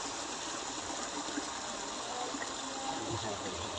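A seasonal river behind a house in Boyolali, one that runs only after rain, makes a steady broadband rushing of flowing water that holds an even loudness throughout.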